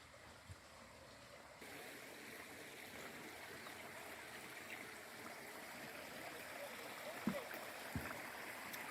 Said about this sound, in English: And can you hear the water?